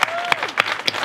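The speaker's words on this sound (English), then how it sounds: "let's put a huge round of applause to Andrea Money and all of Leadership Prince William" A short burst of applause from an audience at a community volunteer event, heard as a handful of sharp, separate claps close by.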